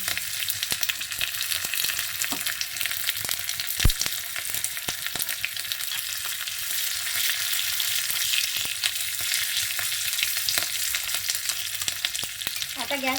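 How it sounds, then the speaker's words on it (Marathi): Cumin and mustard seeds splutter in hot oil for a tempering, a steady close sizzle with scattered crackles and small pops throughout, no voices. "जिरं तडतडलंय"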